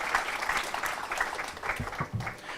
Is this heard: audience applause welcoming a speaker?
yes